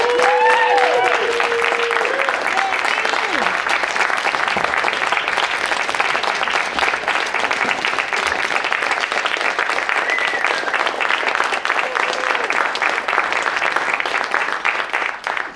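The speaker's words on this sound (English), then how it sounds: "So if we could just get one more round of applause for Sandy." Sustained audience applause at a conference panel, a thick continuous wash of many clapping hands lasting about fifteen seconds, with brief cheers and whoops rising over it early on.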